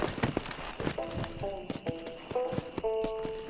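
Horse hooves clip-clop in the Red Dead Redemption video game, spread as scattered beats among game music tones, with a person talking over them.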